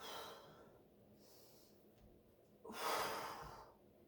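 A person breathing during a Pilates core exercise: a soft, close inhale followed by a louder, forceful exhale through the mouth, with quiet gaps between.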